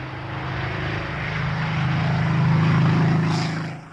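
A streamlined propeller aeroplane passes in flight, its engine drone swelling to a loud peak and then fading, with a steady low throbbing hum throughout.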